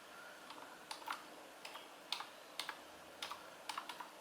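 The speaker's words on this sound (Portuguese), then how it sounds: "eu vou digitar aquele comando para desabilitar a" Computer keyboard typed on in quick, faint bursts of clicking keystrokes with short pauses between, entering a command on a Hackintosh setup, close and quiet with no talk.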